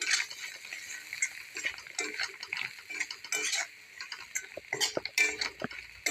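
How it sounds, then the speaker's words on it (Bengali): A spatula scrapes and stirs paneer paratha filling with chopped coriander in a pan, giving close, irregular clinks and scraping strokes over a light background hiss. "এখন দিয়ে দেবো ধনে পাতা কুচি। একটু নাড়াচাড়া করে নামায় নেব।"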